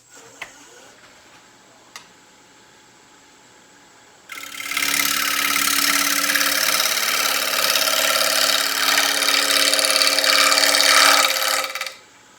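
A wood lathe spins a winged bowl blank while a scraper cuts it, a loud close roar of the spinning work and tool that starts abruptly after quieter shop noise, holds steady for several seconds, then stops.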